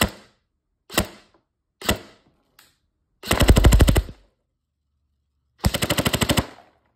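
Four single sharp snapping semi-auto shots from a Tokyo Marui Colt M4A1 airsoft carbine spaced about a second apart, then two rapid full-auto bursts of rattling shots, close and crisp.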